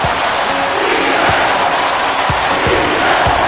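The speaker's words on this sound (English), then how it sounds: "These fans are fired up." A fired-up basketball crowd roars loudly and continuously after a dunk, a dense wall of cheering with a few thumps mixed in.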